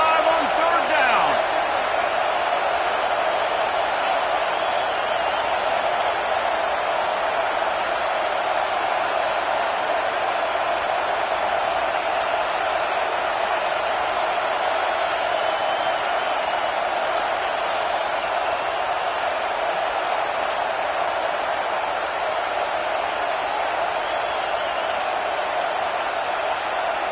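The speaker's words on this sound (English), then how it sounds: "The Buckeye crowd alive on 3rd down." A large Ohio State Buckeyes stadium crowd roars steadily on a third-down play at a college football game, a dense, continuous wall of cheering that holds loud and unbroken throughout.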